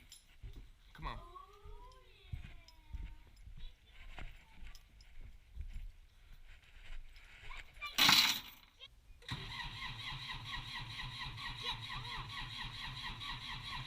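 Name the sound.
tractor engine starting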